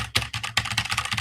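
Quick bursts of keystrokes on a new computer keyboard, close and crisp, clicking in short irregular runs with brief pauses between them.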